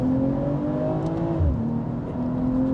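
A BMW M340i LCI engine blips and revs on a downshift into second gear, a steady loud mechanical drone with a brief rise and fall in pitch and no talking.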